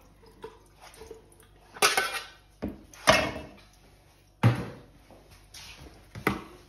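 Peeled potatoes tipped into a Thermomix Varoma basket for rinsing, giving several sharp plastic knocks and tumbling thuds in separate bursts, close and fairly loud against near silence.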